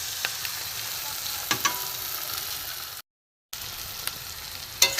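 Two eggs frying in a pan alongside seasoned filling for homemade egg patties, a steady close sizzle with a few sharp crackles and spatula taps, broken by a brief silent gap.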